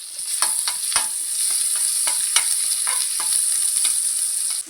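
Ginger, onion and salt frying with whole spices in hot oil, a steady close sizzle broken by repeated scraping clicks of a spoon stirring the pan, continuing evenly until it stops abruptly near the end.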